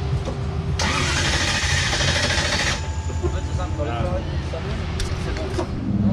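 A race car engine turns over and cranks hard for about two seconds at a race weekend in Riga. Loud, close mechanical noise continues under voices talking.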